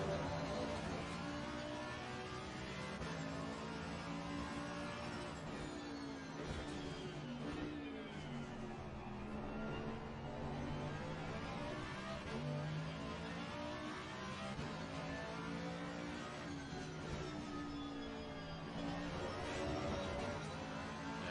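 Ferrari and AMG race cars lapping a circuit during an ARL super series round, engines droning steadily and continuously, rising and falling in pitch as the cars work through corners, with no one speaking.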